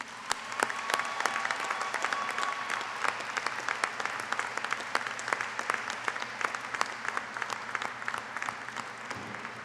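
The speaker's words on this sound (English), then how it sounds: "Please join me in a round of applause for these very important people." A commencement audience gives a sustained round of applause for graduates' families and friends: dense clapping from a large crowd that holds steady throughout.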